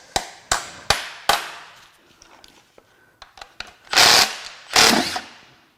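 Power tool breaking loose bolts on a salty, high-mileage Subaru EZ30R 3.0 H6 engine during teardown, giving four sharp impact bursts in quick succession, then scattered clicks and clanks, then two longer loud hammering bursts.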